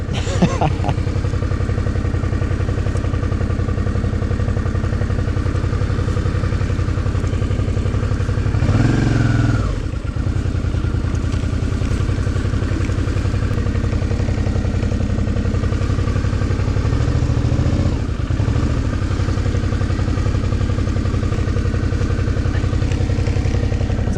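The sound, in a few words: Suzuki V-Strom motorcycle engine turning around on muddy mine road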